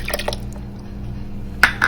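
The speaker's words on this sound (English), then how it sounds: "you'll see me pour twice to make up a whole cup" Liquid poured into a blender jar while making a smoothie, a few short splashing pours with brief gurgles, the clearest burst near the end over a low steady background hum.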